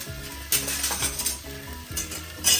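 Avarekalu akki rotti crisping in an uncovered pan, a Karnataka-style rice flatbread sizzling loudly and steadily up close, with a few scraping clinks of a spatula against the metal.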